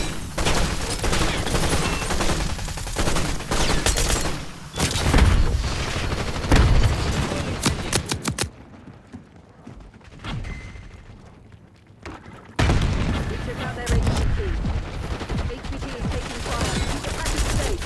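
Rapid bursts of gunfire and heavy booms from a Call of Duty Black Ops 6 firefight, loud and dense for long stretches with a brief quieter lull midway, mixed with radio-style voice callouts.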